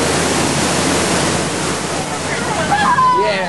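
Waterfall on Disneyland's Jungle Cruise ride, heard as a loud, steady rushing roar of falling water that fills the scene without a break, with faint voices rising near the end.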